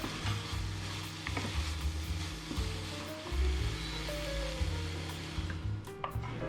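Zucchini stir-fries with egg and shrimp in a hot pan, producing a loud, continuous sizzle broken by repeated scraping and stirring strokes, with no one talking.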